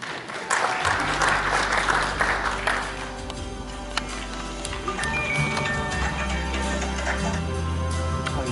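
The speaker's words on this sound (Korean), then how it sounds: "여러분 박수로 맞이해 주시기 바랍니다." A forum audience at the Geumosan Hotel convention center in Gumi gives loud, sustained applause welcoming a speaker to the G-Investment Forum, with steady background music underneath.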